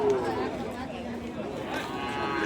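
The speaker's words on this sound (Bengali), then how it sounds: "এই যে পাশে এগুলা আছে দেশাল সাইজের ষাঁড় বাছুর" Native-size bull calves at a busy cattle market, with low lowing calls sounding faintly through a steady wash of crowd chatter and nearby voices.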